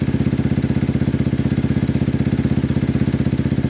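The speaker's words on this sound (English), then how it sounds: "we're going to start the bike up, let the engine warm up to normal idle temperature" A Yamaha MT125 motorcycle idles steadily up close, its single-cylinder engine thumping in a fast, even rhythm with a low mechanical drone and no voices.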